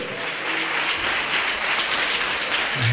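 A congregation at a church revival service bursts into sustained applause, loud, dense and continuous throughout, with no speech over it.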